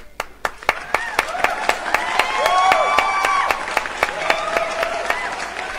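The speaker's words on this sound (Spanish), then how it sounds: "a la izquierda de la pantalla tenemos a Vanessa, para la que pido un fuerte aplauso." Audience applause on a rock television show, with a few sharp individual claps at first that swell into a fuller round of clapping and crowd noise, then thin back to scattered claps.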